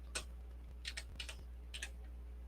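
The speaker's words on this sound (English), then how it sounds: "I'm typing slow because I'm literally using one finger because I'm lazy." Slow, sparse one-finger typing on a computer keyboard, a handful of isolated clicks spaced irregularly over a steady low hum, quiet and close.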